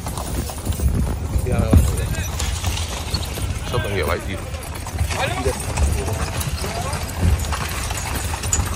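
A horse-drawn carriage rolls along at dusk near Edfu Temple in Egypt, its hooves clip-clopping in a steady rhythm while people talk over the hoofbeats.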